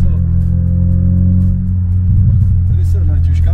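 A Volkswagen Santana sedan's engine revs steadily in third gear, a loud, close, low droning rumble with slight popping from the exhaust toward the end, while someone talks over it.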